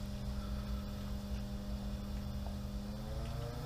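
A variable speed pool pump on 1.5 inch plumbing ramps up toward its maximum 3,450 RPM, giving a steady motor hum whose tones slowly rise in pitch.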